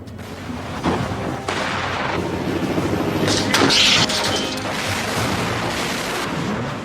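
Heavy artillery booms and sharp gunfire cracks from a large Russian military exercise roll across a noisy outdoor scene, repeated blasts echoing over a constant rumble.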